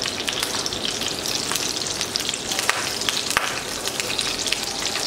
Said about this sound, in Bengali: এভাবে একটু চেপে চেপে আমি ভেজে নিচ্ছি।